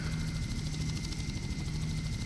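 A helicopter in the Just Cause video game drones steadily with a dense, loud rotor and engine roar, continuous and close, with no talk over it.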